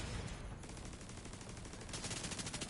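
Dense rapid gunfire from a firefight in The Division 2 video game, a sniper among the shooters, loud and continuous with sharp cracking bursts throughout.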